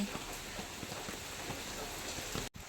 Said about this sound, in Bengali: আর বৃষ্টি পড়ছে